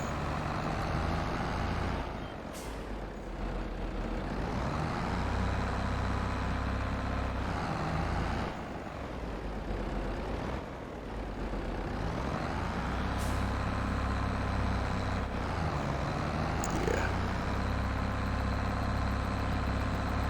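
A tractor engine in Farming Simulator 22 drones continuously and loudly through the whole stretch, a steady low rumble with brief dips in load as the machine turns while pulling equipment.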